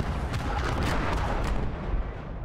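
Tank cannon fire in the WWII strategy game Call to Arms: Gates of Hell: Scorched Earth, a dense, continuous roar of booming blasts and rumbling battle noise that fills the whole clip with no clear pauses.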